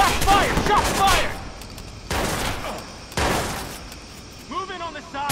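Bursts of gunfire from the video game Watch Dogs during a prison break, with sharp broadband cracks around 2 and 3 seconds amid a dense battle mix, shouted voices over the top.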